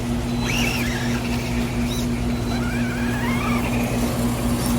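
A Redcat Racing Wendigo RC truck driving nearby, with a steady electric motor whine and rising and falling squeals as it speeds up and turns.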